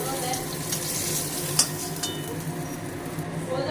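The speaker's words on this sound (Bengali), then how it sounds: "মাছটা ভাজা করছি।" Fish frying in oil in a kadai gives a steady, close crackling sizzle throughout, with a single sharp utensil clink partway.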